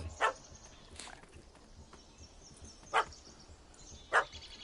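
Short sharp barks from a puppy, a few spaced yips across a quiet scene, fairly close and clear.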